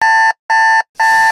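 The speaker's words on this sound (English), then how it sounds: "Whose alarm clock was that?" An alarm clock rings loud and close in three even electronic beeps with short gaps between them, with no other sound.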